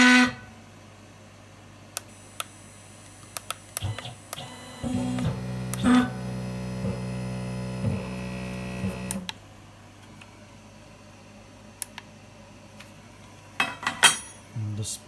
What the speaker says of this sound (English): when I try to move spindle, it makes this weird noise and it stops.